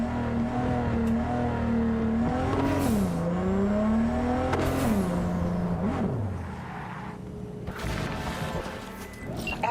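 Cars in Cyberpunk 2077 after Patch 2.0 drive and rev, engine pitch climbing and dropping in several loud surges, with whirring and brief tire noise, ending in a quieter stretch with faint hiss.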